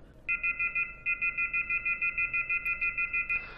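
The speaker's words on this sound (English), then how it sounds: "To je obično alarm, treba mi alarm pošto pravim neki, da tako kažem, sat i alarm." Electronic alarm tone played from an audio file, a steady two-pitch beeping in quick regular pulses that repeats about a dozen times with a short break near the start, clear and alone with no talk.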